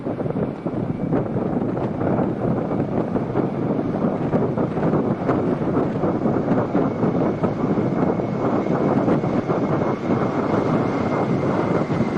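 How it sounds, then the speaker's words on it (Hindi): Dornier aircraft fly past in diamond formation at a naval fleet review in Visakhapatnam, their engines giving a steady, loud, broad roar with wind buffeting and no break for the whole stretch. "Ladies and gentlemen, Dorniers in diamond formation"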